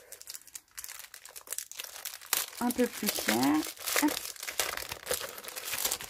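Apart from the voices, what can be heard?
crinkling packaging of Papercraft pack being opened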